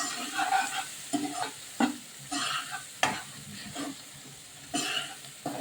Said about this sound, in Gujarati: સારી રીતે આપણે એને મિક્સ કરી દઈશું